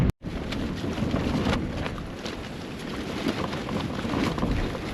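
Strong wind gusting across a desert campsite, a dense, steady rush buffeting the microphone for several seconds with no voices.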